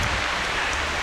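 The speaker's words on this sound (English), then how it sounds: "It's still hailing." Hail falls during a fringe-season backpacking trip at Pictured Rocks, a dense, loud, continuous hiss of pellets striking surfaces all around, with no voices.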